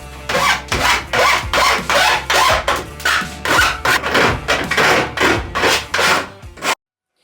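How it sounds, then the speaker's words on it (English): An angle grinder runs against jagged trailer metal, smoothing rough edges during a window install. It sounds as a loud, rasping grind in repeated strokes, about a dozen bursts with brief dips between them, close up, with no talk, then it stops abruptly. "Never used a grinder before this, you can probably tell."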